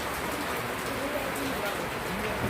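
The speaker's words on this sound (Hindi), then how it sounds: "बारिश भी हो रही है" Rain falls steadily during a Narmada parikrama pilgrimage walk in India, a constant hiss of drops on surfaces with a few faint bird-like chirps, unbroken and fairly loud throughout.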